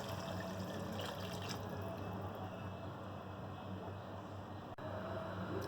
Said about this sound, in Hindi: उसके अंदर हम 2 ग्लास पानी डाल देंगे।